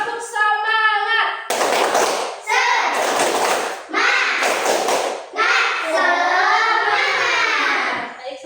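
A class of primary school children stands and performs a rhythmic spirit clap in the classroom, with sharp clap bursts and chanted voices alternating in a steady pattern, loud and close.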